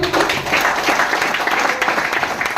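An audience at a business meeting claps together, a loud continuous patter of many hands with no pause, fairly close and filling the whole moment.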